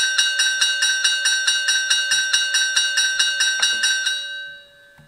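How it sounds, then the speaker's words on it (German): A model locomotive bell rings in a steady, even rhythm, about four strikes per second, loud and close, before stopping and ringing out briefly at the end. "Eine Glocke."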